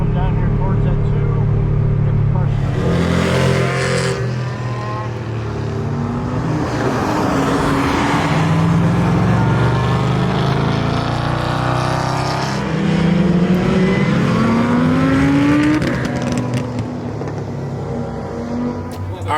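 A stock BMW E92 M3 runs hard around a race track, its engine droning loud and close with steady revs that swell and drop through shifts while a driver talks over it.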